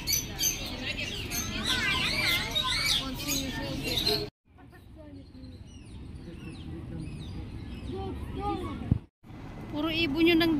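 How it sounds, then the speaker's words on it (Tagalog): Birds at a zoo park give repeated harsh squawks and chirps, loud and near, broken by two brief cutouts, with people talking over the calls. "Ayan. May sigaw siya."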